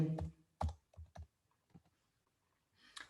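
A computer keyboard typing in a web address: a few separate keystroke clicks in short bursts, close and fairly clear, then a brief pause before a final burst.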